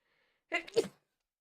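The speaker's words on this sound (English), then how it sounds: "A sneeze." A single sharp sneeze, close and fairly loud, with a quick intake of breath before the burst and quiet on either side.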